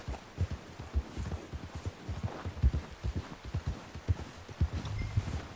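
A horse trots in Red Dead Redemption 2, its hooves clip-clopping in a steady, close rhythm of soft thuds over a low ambient hum.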